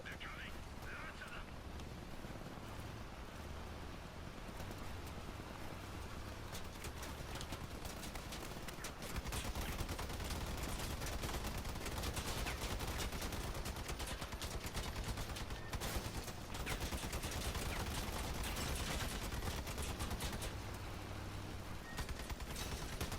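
Rapid bursts of vehicle-mounted gunfire in the combat game Crossout run as a dense, continuous clatter. The volume rises after the first few seconds and holds near and loud, with occasional voices mixed in.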